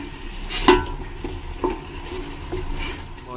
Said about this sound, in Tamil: வதக்கலாங்க.